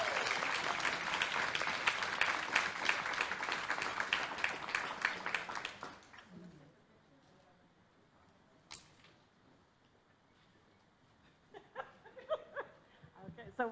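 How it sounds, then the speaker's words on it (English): A caucus meeting audience applauds Dr. Reginald Atkins, dense clapping and some cheering filling the first six seconds, then fading to quiet room noise with scattered murmurs and a brief late flurry of claps. "Will you please give him a round of applause?"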